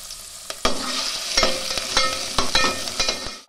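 Potatoes fry in a pan for a village-style sabudana kheer, sizzling up close with sharp clicks and scrapes of a spatula stirring them, no talk.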